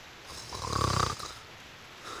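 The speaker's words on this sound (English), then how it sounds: "We know what snoring is." A cartoonish snore from an apple character in a video game, one drawn-out rumbling inhale swelling and fading alone against a quiet background.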